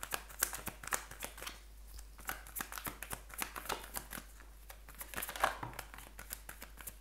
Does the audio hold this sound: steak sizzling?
no